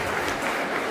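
Audience applause at the award ceremony of a bouldering championship, a steady dense wash of clapping throughout a single second, fairly loud with no voices.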